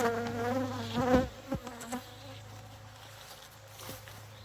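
Honey bees buzzing around a frame pulled from a hive during a honey harvest, a close whining drone that swells and fades as individual bees pass, with a few brief knocks and handling noises.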